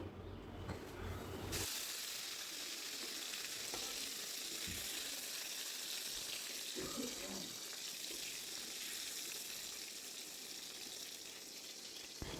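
Pointed gourd (potol) frying in oil in a wok gives a steady, close hiss and crackle of sizzling throughout, with a few brief clinks and stirring noises.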